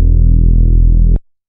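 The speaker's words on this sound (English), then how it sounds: "basically it's just a super saw" A super saw synth preset built in Ableton plays one loud sustained chord of about a second, dense in low harmonics, then cuts off sharply into silence.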